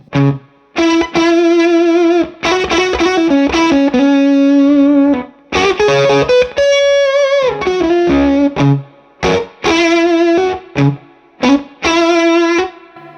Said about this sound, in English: It's got that real stuttering effect on here.